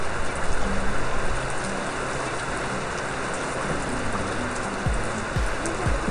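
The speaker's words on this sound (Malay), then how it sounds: "Hujan." Steady rain hisses down at sea over a river-mouth fishing trip, a dense continuous wash of drops close by, with faint low knocks underneath.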